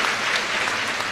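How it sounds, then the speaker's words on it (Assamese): A large audience at an Assam government scheme event with the chief minister claps in a short, dense, even burst of applause with no gaps. "এটা দীঘলীয়াকৈ হাত চাপৰি বজাই দিয়ক"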